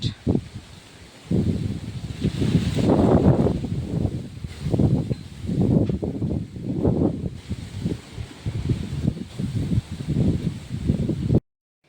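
Gusts of wind before a rainstorm rush through leafy branches in repeated swells, a steady rustling roar with some buffeting on the microphone.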